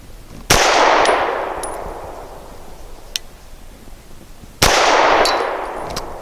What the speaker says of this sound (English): I'll be shooting at the upper left target.